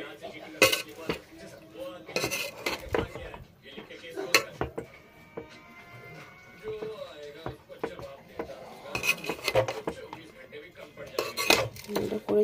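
A utensil clinks and scrapes against a pot while biryani is stirred, giving irregular metallic knocks and rattles at moderate volume, with faint talking at times in the background.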